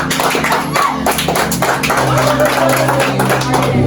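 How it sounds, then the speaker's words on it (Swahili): A church congregation claps during overnight prayers, a loud, close burst of many hands clapping in a steady rhythm, with voices mixed in. "Pigeni makofi."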